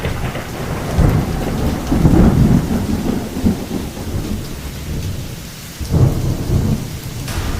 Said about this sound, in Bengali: ঝড় বৃষ্টি হচ্ছে বাইরে